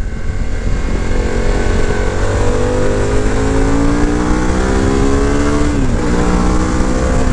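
Harley-Davidson Pan America adventure motorcycle with its Revolution Max engine, a loud, steady, close engine drone with rising harmonic tones as it revs and pulls, briefly dipping near the end, with no talking over it.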